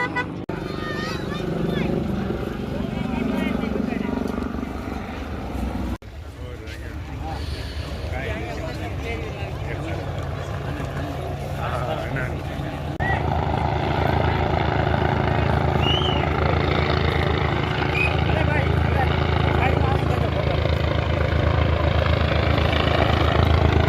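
A loud, steady helicopter rotor drone close by as the helicopter arrives at a Ram Katha gathering in Palitana, growing heavier partway through, with crowd chatter and voices underneath.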